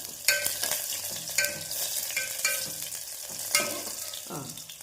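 Garlic fries in oil in a pan, a steady close sizzle with repeated scraping stirs of a spoon against the pan every second or so.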